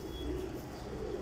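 Pigeons coo softly in low, throaty murmurs, brief and fairly faint, with no talking.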